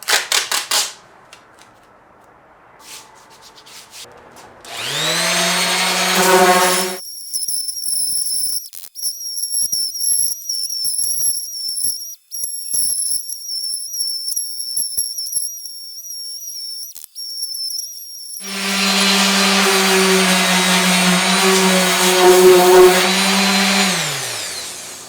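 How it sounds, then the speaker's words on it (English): A dual-action sander strips paint from the frame rail of a 1965 Mustang, a steady high-pitched whine running for about twelve seconds between two louder stretches of a roaring propane torch. "I am lightly going to hit it with a DA sander to remove some of this paint"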